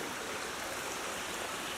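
Water slides down a natural rock chute into a pool at a state park, giving a soft, continuous hiss and rush that stays even and fairly quiet throughout.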